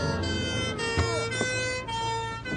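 Emergency sirens from police cars and an ambulance arriving, a steady wailing tone with sweeping pitch over a constant engine-like rumble, loud and continuous throughout.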